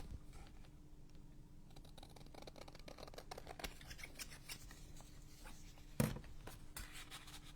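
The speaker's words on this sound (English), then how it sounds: "cut that off. Stuff stuck to my scissors." Scissors snipping paper for a handmade junk journal, a run of quick close clicks and cuts under a low steady hum, with one sharper snap near the end.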